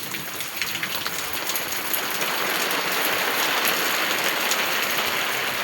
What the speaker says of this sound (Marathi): तर पाऊस खूप कमी झाला आहे.